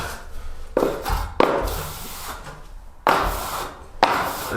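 A steel plastering trowel skims wet plaster across a plasterboard stud wall, with repeated scraping strokes that start abruptly and rasp for a second or more each, close and fairly loud, no talking.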